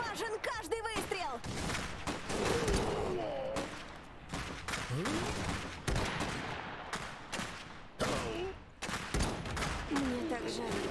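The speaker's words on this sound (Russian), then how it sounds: "Они стреляют! Важен каждый выстрел!" Rapid bursts of gunfire in the strategy game Iron Harvest crackle and boom repeatedly, with shouted voices talking over the shooting throughout.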